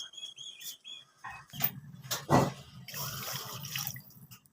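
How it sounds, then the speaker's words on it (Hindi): Water splashes and gurgles steadily into a cooking pot for leftover-curry rice, with a few clinks and knocks of the vessel at the start. "तो बस हाफ़ ही हम इसमें पानी ऐड कर देंगे।"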